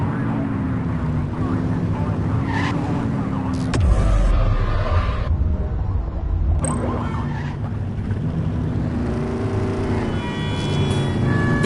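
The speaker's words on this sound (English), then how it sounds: "Get on their tail and blip the siren." A police car siren is blipped briefly in The Precinct video game, with short chirps rising over a steady car engine drone and road noise.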